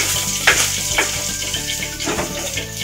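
Pork and garlic sauté in a pan for pork menudo, a loud, steady close sizzle with occasional stirring scrapes throughout.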